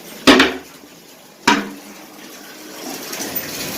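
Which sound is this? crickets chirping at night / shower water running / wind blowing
shower water running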